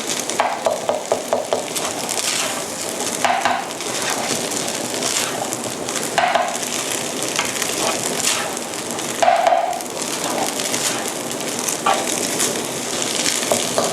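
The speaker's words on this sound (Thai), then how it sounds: "กระจายข้าวให้ทั่วกระทะนะคะ" Rice for American fried rice stir-fries in a hot pan, a continuous sizzle broken by repeated scraping and tossing strokes of a spatula at close range.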